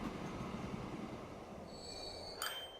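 A train arrives in a railway management video game, a steady rolling rumble that ends in high, sustained wheel squeals as it brakes near the close; no talking.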